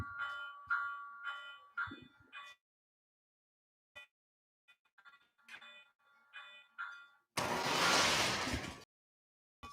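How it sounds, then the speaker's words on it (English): A locomotive bell effect from a remote-controlled model train rings in repeated, evenly spaced strikes, quiet and fairly close, pausing and resuming before a burst of broadband hiss cuts in. "But listen to the bell."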